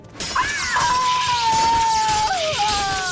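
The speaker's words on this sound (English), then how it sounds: "Can you please not scream as loudly? Can you please moan in silence?" A female character in the Morrowind video game lets out a long, loud, wavering moan with a scream-like rise, sustained close up over faint game background.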